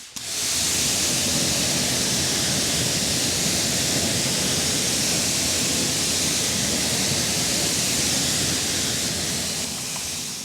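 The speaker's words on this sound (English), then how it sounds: "let's get into pressure washing these off first, drying them, and then give our evaluation" A pressure washer rinses ceramic-coated car wheels with a loud, continuous hissing spray. It starts abruptly and keeps up a steady rush of water for about ten seconds, with no talk.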